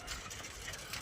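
A motorbike engine idles at a faint, steady level, with a low continuous rumble and no clear revving.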